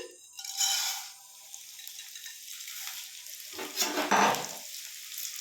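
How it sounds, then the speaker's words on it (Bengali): Flattened rice (chira) frying in a little oil, giving a soft, moderately close sizzle and crackle with a few scraping stirs and light clinks of a pan, no voices. "অল্প করে তেল দিয়ে দিলাম, চিড়েগুলো ভেজে নিচ্ছি।"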